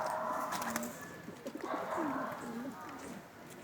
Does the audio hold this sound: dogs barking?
no